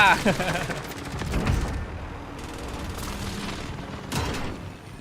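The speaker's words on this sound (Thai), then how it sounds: "เขายิงกันอยู่เราต้องรีบไปครับจุดประทะ" Gunfire in the video game Warzone Pacific, a loud rapid burst of shots at the start followed by scattered further shots and mechanical clatter, with a voice talking over it.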